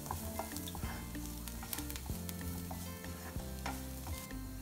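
Coriander powder sizzles and fries in a pan for samosa filling, with steady scraping strokes of a spoon stirring throughout; close, continuous and fairly loud, no talking.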